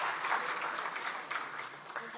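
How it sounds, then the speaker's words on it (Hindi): Audience at a national conference of parliamentary Estimates Committees applauding in a hall, continuous moderate clapping with a slight murmur of voices beneath it. "तालियों की गर्जना बहुत अच्छे से हो तो बहुत खुशी होगी।"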